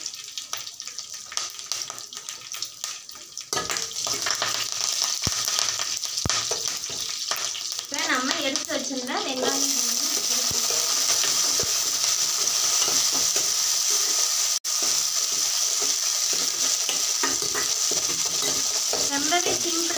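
Onion, cumin and curry leaves frying in a pan for karunai kilangu (elephant yam) kulambu, with a quiet start, then a loud continuous sizzle and crackle, scattered stirring scrapes and clinks, and steady frying to the end.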